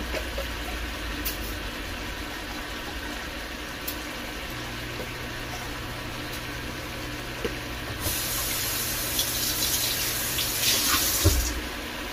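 A kitchen tap runs steadily while a vegetable is rinsed out, a constant close hiss of water that swells louder and splashier toward the end, with no talking.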